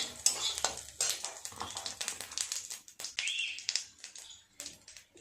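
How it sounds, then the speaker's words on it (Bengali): Whole cumin and a dry red chilli tempered in oil with a little butter, stirred with a spoon; quick clinks and scrapes against the pan over a light sizzle, close and busy. "ফোড়নে দেব 1 চামচ গোটা জিরে আর একটা শুকনো লঙ্কা। ফোড়নটা একটু নেড়ে চেড়ে নেব।"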